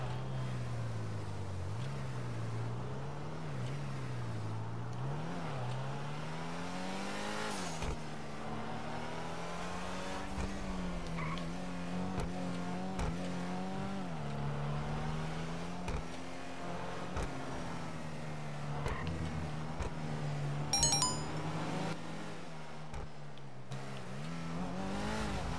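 The Ocelot Ardent car in GTA 5 accelerates with a steady, droning engine note that rises and falls through gear changes over a long stretch, moderately loud and continuous.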